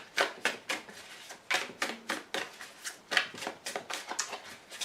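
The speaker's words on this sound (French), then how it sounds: "Encore une carte de retournée." Tarot cards are shuffled and flipped in a series of soft, crisp riffles and slaps, close and fairly quiet, arriving in uneven quick bursts with no talk.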